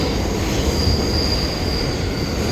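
A nearly empty train car rolls along its track on the ride home, with a steady, loud rumble of wheels and a faint high whine running throughout, no voices.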